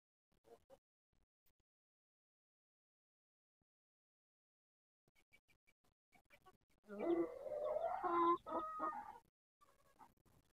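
After mostly quiet, a Japanese Shamo rooster gives a loud, drawn-out crow for about two seconds, preceded by a few faint clucks and rustles.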